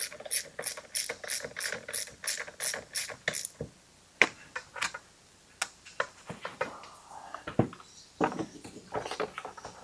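Ratchet clicking as a 1/2 inch deep well socket drives a decompression valve into a Stihl MS311 chainsaw cylinder during a rebuild: a fast run of close, sharp pawl clicks, then slower scattered ratcheting strokes.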